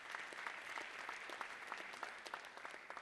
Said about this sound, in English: Ladies and gentlemen, please applaud Guyvechi Lafargue.